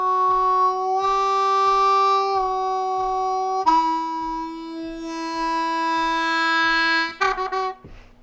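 A harmonica plays a lick, sustained draw notes bent and released on the three hole, with sharp attacks, over a steady quiet clicking beat; a few quick notes come near the end.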